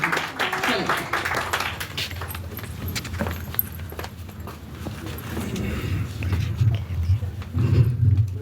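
Clapping from an audience at a Hindi poetry gathering held at a school, as a poet is welcomed. It is dense and steady, strongest early on, then fades into a murmur with voices and handling noises mixed in.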